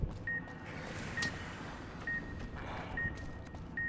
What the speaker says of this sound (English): Why is there beeping here?